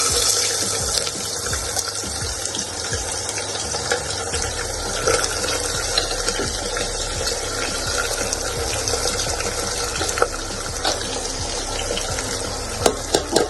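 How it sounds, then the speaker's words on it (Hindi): Chopped onion and cumin frying in hot oil in a pan while cooking jackfruit curry, a steady dense hiss and sizzle with scattered crackles and a few sharp pops, continuous and close throughout. "अच्छी तरीके से प्याज को भून लेते हैं।"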